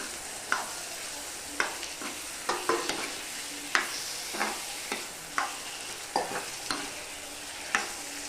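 Tomatoes and turmeric frying for egg curry, a soft sizzle broken by regular scraping strokes of a spoon stirring the pan, close and fairly quiet, with no voices.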